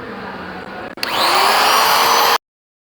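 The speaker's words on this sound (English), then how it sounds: "Found the perfect router bit. Now we're gonna just start routing away." A router cuts grooves into a car lip splitter for a Lexus UX 250H body kit. It starts abruptly as a loud, steady, high-pitched whine, holds for about a second and a half, then stops dead.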